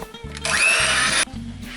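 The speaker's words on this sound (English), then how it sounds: "In with your sugar and then mix them up until they're nice and creamy." An electric hand mixer creams softened butter and sugar in a bowl, a close, loud whirring motor run of about a second with faint rhythmic background hum before and after.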